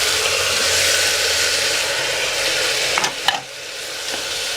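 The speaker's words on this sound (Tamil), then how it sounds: "தக்காளி போட்டு நல்லா வதக்குங்க." Chopped tomatoes sauté with ginger and garlic in a hot pan for millet tomato rice, giving a steady, loud sizzle and hiss with a few brief stirring scrapes near the end.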